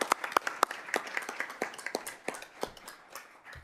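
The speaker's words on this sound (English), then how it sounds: "let's go ahead and give them a round of applause." A small audience at a county quorum court meeting gives guests from a 4-H club a short round of applause, scattered individual claps heard fairly close that thin out and fade within a few seconds.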